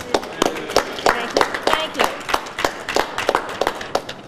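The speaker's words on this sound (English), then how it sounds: "Have a big round of applause for Madelyn Thorne" A crowd applauding at a 2012 New York State Senate campaign rally, with dense, irregular clapping that is loud and sustained for several seconds, close to the listener.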